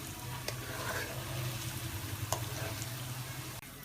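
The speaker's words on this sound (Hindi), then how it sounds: "देखिए अदरक लहसुन हो रहा है।" Ginger and garlic sizzle in a pan while cooking goat trotters paya, a quiet, steady crackling fry with small pops close by.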